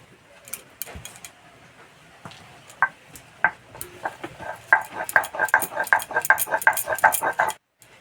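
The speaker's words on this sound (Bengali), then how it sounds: "এবার একসঙ্গে বেটে নেব।" Soaked lentils and rice ground together by hand, a series of rapid scraping, clacking strokes that build into a quick steady rhythm, close and fairly loud, ending abruptly.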